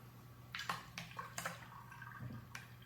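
Liquid poured into a yeast starter vessel, splashing and dripping in a few quick bursts and then trickling, fairly quiet against a low steady hum.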